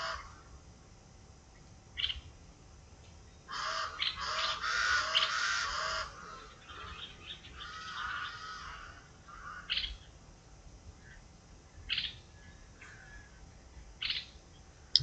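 Outdoor birdsong with scattered calls and a dense burst of squawking near the middle, mostly moderate in level and fairly close, no voices.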